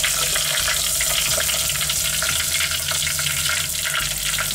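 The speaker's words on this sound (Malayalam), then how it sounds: "വെളുത്തുള്ളി നന്നായിട്ട് മൂത്ത് വന്നിട്ടുണ്ട് ഇനി ഇതിലേക്ക് പച്ചമുളക് ആഡ് ചെയ്യണം" Garlic and green chilli frying in a pan for a Malabar fish curry, a steady loud sizzle with watery crackle running continuously throughout, no talking.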